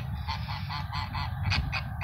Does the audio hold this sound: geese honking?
yes